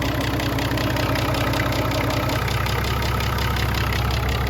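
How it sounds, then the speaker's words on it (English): A car AC pump, converted for another use, runs steadily with a slightly noisy, rattling mechanical hum and a fast regular pulse, loud and close, with no talking. "You can actually hear my pump's a bit noisy."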